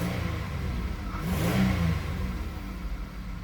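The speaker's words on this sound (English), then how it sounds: "let's go ahead and give her a few revs here" A car's 3800 engine revs on a cold start, one steady rise and fall of engine roar over a continuous idle drone, close and fairly loud, with no talking.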